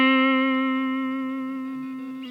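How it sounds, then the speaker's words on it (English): A sustained musical note pulses with a quick, narrow vibrato, its harmonic-rich tone slowly fading before a brief break at the end. "correctly narrow, but maybe too fast might sound something like this"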